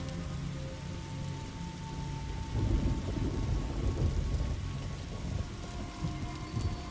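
Rain pours steadily in the Residence Massacre game during a blood-moon night storm, and a deep roll of thunder swells in the middle before fading back under the hiss of the downpour.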